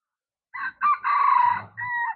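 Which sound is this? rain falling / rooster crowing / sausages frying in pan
rooster crowing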